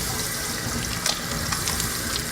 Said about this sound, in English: wet hands under running water